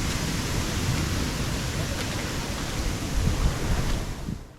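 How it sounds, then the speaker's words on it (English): Ocean waves washing onto Marari Beach, a continuous broad rushing surge with a slight swell near the end, steady and fairly loud with no voices. "The soothing rhythm of the waves"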